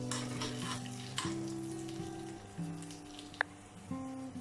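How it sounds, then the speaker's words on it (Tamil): Chana dal and garlic roast in a pan with a steady crackling sizzle and occasional stirring, while a faint musical tone hums underneath and one sharp clink stands out near the end. "அப்புறம் கார்லிக், இதை லைட்டாக கொஞ்சம் பொன்னிறமாக ஆற வரைக்கும் நம்ம வறுத்து எடுத்துக்கலாம்."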